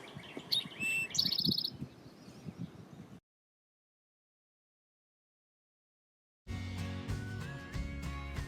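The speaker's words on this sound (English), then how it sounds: "That chweet you're hearing is the towhee responding." Bright, short chweet calls of a towhee ring out briefly among other chirps, then a long silence, followed by a burst of busy, layered sound.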